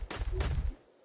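Two sharp, loud gunshots crack in quick succession in the Tiny Troopers video game, followed by a short fading tail.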